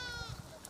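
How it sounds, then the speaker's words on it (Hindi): A herd of sheep and goats moves along behind horses at a Gaddi shepherds' camp, with scattered bleats and hoof shuffling under nearby talking. "आगे घोड़े, पीछे पीछे भेड़ बकरियां।"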